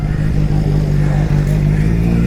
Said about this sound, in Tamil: அண்டர் சீட் எக்ஸாஸ்ட் இருக்கும் இந்த வண்டிக்கு. செம்ம சவுண்டுங்க.